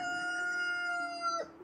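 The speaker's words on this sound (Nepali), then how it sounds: "बल्ल बास हो यो भाले आज" A rooster crows once nearby, a single loud, drawn-out call that rises and holds before breaking off at the end, alone with no talk.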